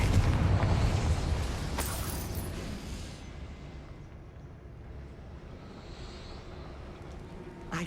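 A Confringo fire spell in Hogwarts Legacy bursts with a loud, broad blast that rumbles and slowly fades into a long, hissing tail, with a sharper crack partway through.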